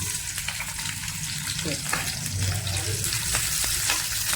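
Oil sizzles and crackles steadily as chopped onions fry in a pan, with occasional stirring scrapes and pops, close and continuous.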